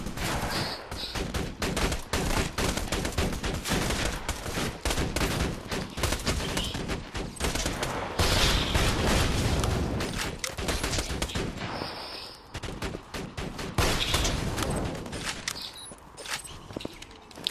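Video game gunfire roars in dense, rapid bursts almost without pause, loud and close throughout, easing briefly around the middle before the shooting resumes.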